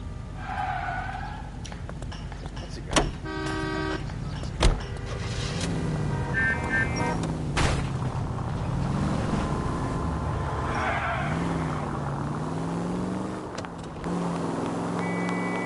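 Car in the L.A. Noire video game driving with a steady engine drone and road noise, marked by a few sharp impacts and brief tonal horn-like blasts scattered across the stretch.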